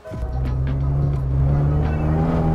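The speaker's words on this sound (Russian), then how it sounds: "Газуй больше, Леха." A drifting car's engine revs hard and steadily at close range, with a loud sustained roar and faint tire noise throughout and no talking.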